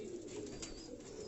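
A brief stretch of soft, rolling coos from Jaunsari breed Rani pigeons on a Karachi rooftop, close and steady with no talking.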